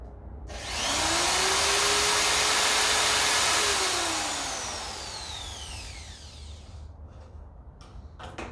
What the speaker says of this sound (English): Okay, so I'll go ahead and pre-drill the first one.